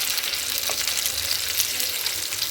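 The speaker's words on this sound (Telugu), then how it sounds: "విడిపోకుండా మంచిగా ఫ్రై అవుతున్నాయి" Pieces of masala-coated fish frying in a pan, a loud, even sizzle that holds steady and close from start to finish with no talking.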